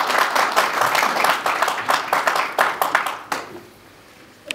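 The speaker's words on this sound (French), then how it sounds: "On l'applaudit." A press conference audience breaks into a burst of clapping that lasts about three seconds, then fades to quiet.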